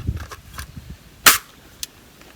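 A single loud gunshot from a 9 mm handgun fired at a bulletproof gift-wrapped box, one sharp crack standing out over low background noise, followed by a fainter click-like impact.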